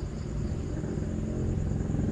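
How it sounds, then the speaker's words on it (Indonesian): A motorbike travels on a distant road through the countryside at night, heard from a campsite: a steady, low droning engine rumble that holds at an even level throughout, alone with no voices. "Itu suara motor ya."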